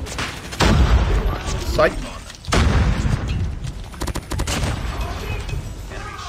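Bursts of heavy pistol fire crack out repeatedly in a COD Mobile match, mixed with other in-game booms and clatter while a player talks excitedly over the action.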